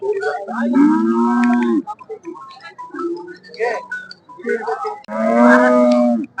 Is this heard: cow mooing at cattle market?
yes